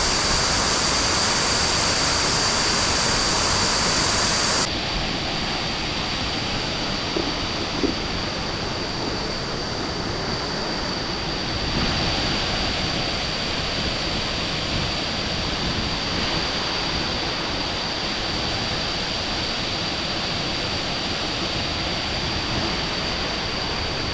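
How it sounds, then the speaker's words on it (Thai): A waterfall pours in a natural setting where boats carry visitors, a loud, continuous broadband roar of rushing water that stays steady throughout with no voices. "แล้วก็เบิ่งน้ำตกสวยงาม"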